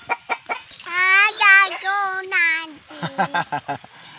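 Close chickens cluck in short bursts around a few stretched, wavering squawks, and the clucking picks up again rapidly at the end.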